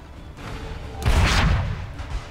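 Cannon fire in the Assassin's Creed 3 video game, a single heavy boom with a deep rumbling burst that swells and decays over about a second, set against a low game backdrop.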